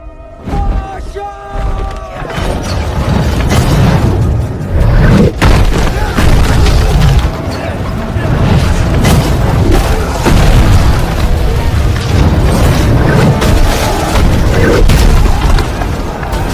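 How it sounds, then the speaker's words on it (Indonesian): Loud, continuous rumbling booms and heavy impacts of catapult stones bombarding a fortress, crashing against walls, with a dense chaotic roar throughout. "Diawali dengan tembakan pasukan pelontar batu menghujani benteng Ansi."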